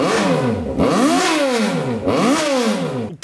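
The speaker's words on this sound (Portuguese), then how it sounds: "Essa moto aqui, ó, faz pouco barulho. Vamos dar uma ligadinha nela, que ela tá merecendo." Yamaha XJ motorcycle engine revving hard in two long sweeps, pitch climbing and falling each time, loud and close with no talk over it.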